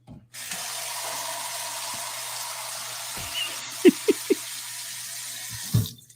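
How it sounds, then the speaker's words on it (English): Cold water runs steadily from a kitchen tap into a sink as a constant hiss, with a few soft knocks and clunks near the end. "while turning your cold water on."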